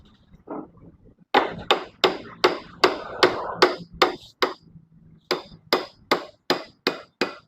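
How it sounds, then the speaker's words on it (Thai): Sharp metal hammer blows ring out one after another in a steady rhythm, driving a tight, stuck wheel axle back in, about a dozen close strikes with a short pause midway. "ตอกเข้าไปคืนครับ"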